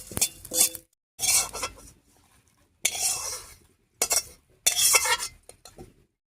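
A spoon stirs radhuni spices frying in a pan in a home kitchen, with several separate bursts of scraping and clinking broken by short pauses, close and moderately loud.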